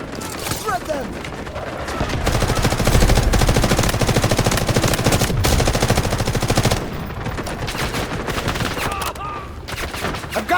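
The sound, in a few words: gunfire from vehicles in video game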